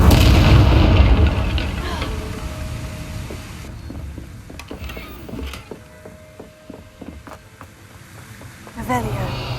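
A fire spell cast in the Hogwarts Legacy video game bursts out loud at the start, then gives way to crackling, rumbling game effects and sharp impacts that swell again near the end.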